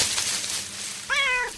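A small kitten gives one short, clear meow near the end, close and fairly loud over a steady background hiss, with no voices.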